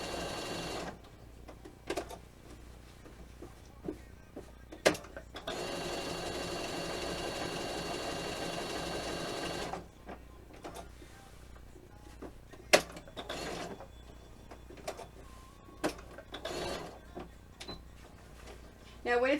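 A computerized sewing machine runs a steady stitching burst of several seconds, then stops with clicks and clunks of its automatic back-stitch and thread cutter, amid scattered handling noises and some talk.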